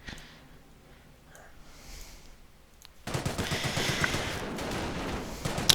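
Company of Heroes battle with a Luftwaffe squad against a Bren Carrier: quiet ambience with faint distant pops gives way abruptly to loud, sustained rattling machine-gun fire and clustered shots filling the second half.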